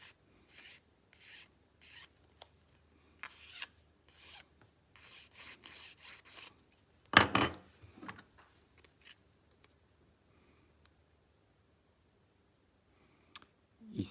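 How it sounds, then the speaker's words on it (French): A hand file works a flexible gauge down to a set dimension: a run of steady, rhythmic rasping strokes up close, one louder scraping pass, then quiet with only a faint click near the end. "je vais continuer à limer"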